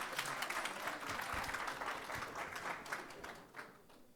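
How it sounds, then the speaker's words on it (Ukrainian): An audience applauding steadily, a dense wash of clapping that fades slightly toward the end, fairly distant. "справах ветеранів України Руслана Приходька під ваші оплески."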